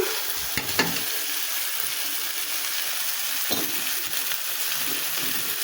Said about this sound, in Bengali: এবার একটু নাড়াচাড়া দিয়ে দিলাম একটু চিনি দিলাম